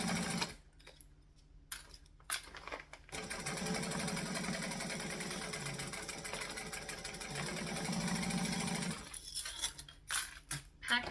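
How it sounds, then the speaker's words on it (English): A sewing machine runs in two long stitching bursts through layered quilt fabric, a steady mechanical hum with brief pauses and clicks of handling between runs, close and moderately loud. "Now that I've put all my clips on the wrong way, I'm going to actually stitch it this way"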